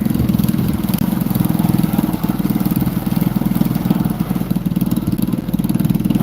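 Motorcycle engine running steadily and loud throughout, a continuous mid-pitched drone with slight revving while riding wheelies at night without a headlight.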